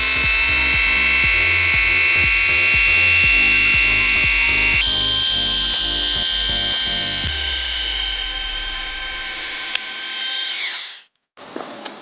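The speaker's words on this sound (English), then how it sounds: "Now let's crank the speed up and start polishing." Krauss Eco 7 Nano battery polisher running at high speed on a car's paintwork, a loud continuous whining motor hum with a rhythmic mechanical chatter that steps down in pitch, then spins down to a stop near the end.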